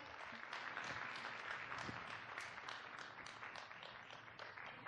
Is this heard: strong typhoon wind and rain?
no